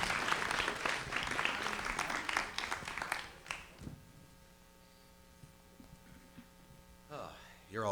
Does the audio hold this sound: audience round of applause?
yes